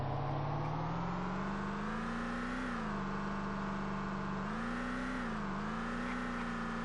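A hotwired truck engine in a video game runs steadily and revs, its drone rising and dipping in pitch several times, loud and close with nothing else heard.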